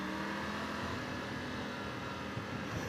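Triumph Tiger motorcycle engine accelerating under the rider, a fairly quiet, steady mechanical drone with wind noise and no talking.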